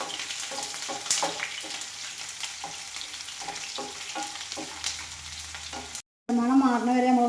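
Chopped ginger and garlic sauté in a pan for lemon pickle, sizzling as a spoon scrapes and stirs in a quick rhythm. A short cut follows, then music.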